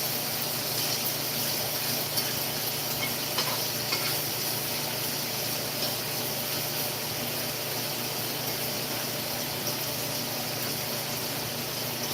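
Jalapeno grilled cheese frying in a pan, a steady broadband sizzle that holds constant and fairly close throughout with no talking.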